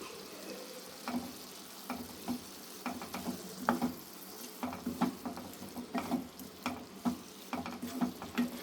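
Greens being stir-fried with onion and grated coconut: soft sizzling under repeated scraping and stirring strokes of a spoon in the pan, irregular and close.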